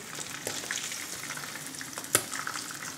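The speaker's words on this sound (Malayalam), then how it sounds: "നമ്മുടെ ഫിഷ് ഫ്രൈ 2 സൈഡും നന്നായിട്ട് ഫ്രൈ ആയിട്ടുണ്ട്" Ribbon fish fry in hot oil with a steady, quiet crackling sizzle, broken by an occasional clink of a utensil against the pan.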